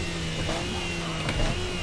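Race car engine roaring steadily at speed on a Bathurst circuit lap, a continuous loud drone with a brief surge near the end, close to the car.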